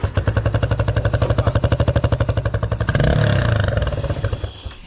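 A Geon X-Road 200 motorcycle engine idles with a steady, rapid putter, then revs up briefly into a louder, rougher roar before settling back down.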